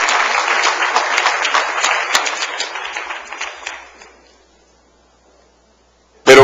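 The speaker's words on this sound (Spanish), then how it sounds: "dale un aplauso al rey" Loud crowd applause in a church that gradually fades away over a few seconds into near silence, followed by a brief sharp burst of sound at the end.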